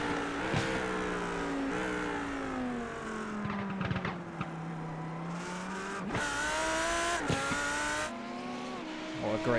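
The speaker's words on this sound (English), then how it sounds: "Listen to the pops and bangs out of the back of that Lamborghini" A Lamborghini race car engine roars with sharp exhaust pops and bangs over gear shifts at Suzuka, a loud close pass with rising and falling revs, commentary faintly beneath.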